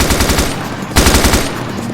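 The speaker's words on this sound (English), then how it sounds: "Aim down the sights, open fire on the targets." Rapid automatic machine-gun fire at targets in the military shooter Arma 2: Operation Arrowhead, two loud sustained bursts of close shots with a brief pause between.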